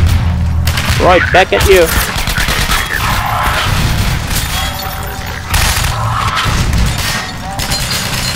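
Grenade blasts and gunfire in Half-Life 2: Episode One, loud and close, with bursts of shooting, heavy booms and crashes running throughout, while a voice speaks briefly over the combat.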